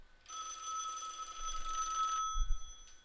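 A desk telephone rings with an incoming call to extension 102 on a router-based voice setup, giving one steady electronic ring burst of about two seconds, clear and close, followed by a soft thump.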